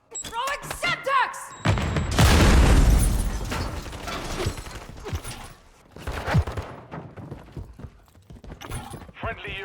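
A Semtex grenade goes off in a first-person shooter video game, a loud close boom followed by bursts of gunfire and rattling combat noise, with game voices heard at the start and throughout.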